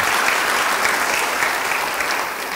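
Church congregation applause during a sermon, a steady wash of many hands clapping at close range that holds for a few seconds and eases slightly at the end, with no speech over it.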